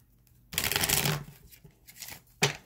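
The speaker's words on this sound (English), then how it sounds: "I'm gonna go ahead and shuffle these cards one more time" Tarot cards are shuffled in a quick riffling burst, followed by softer handling sounds and one short final flutter, close and fairly quiet.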